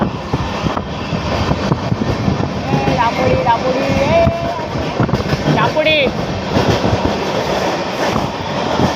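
A train rumbles along near at hand, a loud continuous roar with rhythmic clatter and occasional squealing tones from the wheels, while people talk over the noise.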